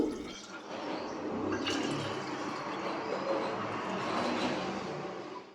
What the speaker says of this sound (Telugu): ఫస్ట్ పిల్లల వాటర్ బాటిల్స్ అయితే నింపుతున్నాను